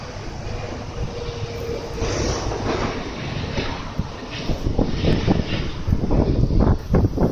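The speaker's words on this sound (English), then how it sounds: "Another plane over my head." Steady broadband roar of an airplane passing overhead, building slightly in loudness, with a low rumble throughout and no talking.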